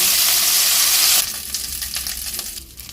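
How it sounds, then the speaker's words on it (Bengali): Prawns fry in hot mustard oil, giving a loud, steady hissing sizzle for the first second, then a rougher, spattering crackle with light stirring scrapes as the frying settles, with no voices. "চিংড়ি মাছগুলো ভাজা হয়ে গেছে বেশি ভাজবো না তাহলে কিন্তু চিংড়ি মাছ শক্ত হয়ে যাবে"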